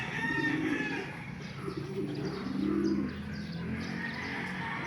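Breeder racing pigeons coo in a loft, their low rolling calls repeating several times close by over a soft background of chirps and rustling.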